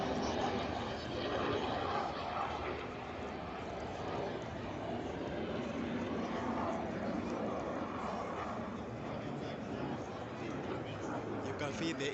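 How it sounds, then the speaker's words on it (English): F-5 jet fighters passing at a military airshow in Nairobi, a steady broad engine roar that fills the whole stretch, moderately loud, with crowd chatter underneath. "the show became more interesting when finally the F-5 jet fighters approached"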